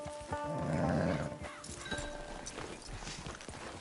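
In the video game Red Dead Online, a horse whinnies, then its hooves clip-clop in a steady, fairly quiet rhythm close by.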